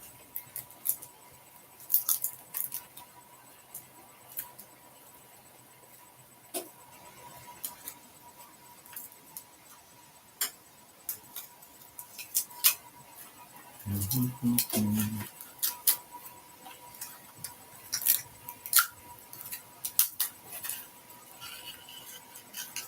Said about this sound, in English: I'm going to take these scissors and see if I can kind of get it started